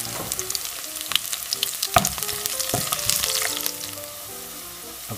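Sliced chilies and browned garlic frying in hot oil for sweet and spicy dried fish, giving a steady close crackling sizzle with sharp pops and stirring clinks throughout, gradually settling slightly quieter toward the end; no talking.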